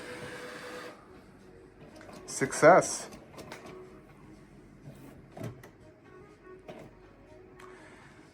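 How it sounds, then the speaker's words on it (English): An Epson EcoTank ET-3958 inkjet printer whirs and clicks with mechanical buzzing bursts and a louder grinding movement midway, while a person speaks briefly nearby. "It sounds like a printer."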